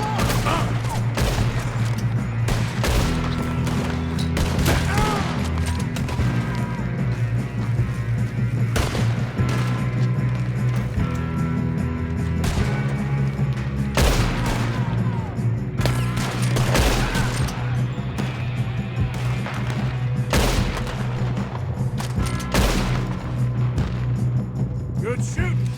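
Rapid volleys of rifle and pistol fire crack throughout a Wild West shootout in Red Dead Redemption 2, dense and loud, with booming reports over a steady low rumble and voices shouting now and then.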